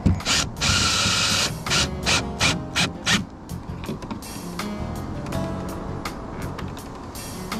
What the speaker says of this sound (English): So now I'm just putting in the last two screws, again, not over tighten it